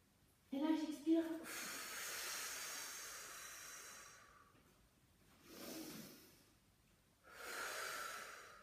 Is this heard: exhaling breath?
yes